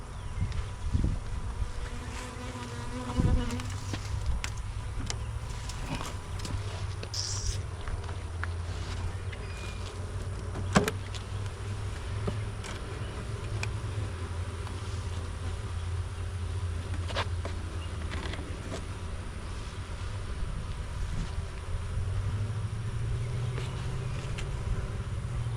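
Honey bees buzzing around an open hive while a beekeeper inspects a swarm, a steady dense hum of many insects with a few louder close passes, alone without talk.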